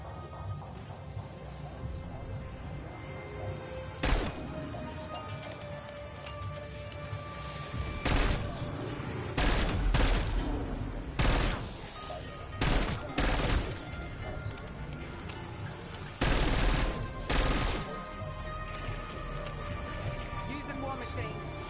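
Rapid bursts of war machine gunfire in a video game ring out in several loud clusters, separated by short pauses, over a steady background hum.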